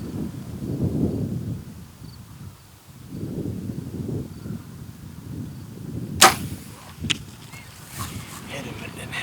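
Archery arrow released at an antelope buck during a hunt: a sharp snap followed by a second crack a moment later, heard outdoors over wind and low murmuring, with hushed talk around it.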